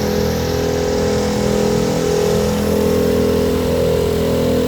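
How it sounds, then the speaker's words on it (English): A generator runs in the paddock at the Daytona 24 Hour race, a steady, loud mechanical drone, its engine hum holding an even pitch throughout with no pauses. "That's a generator, actually."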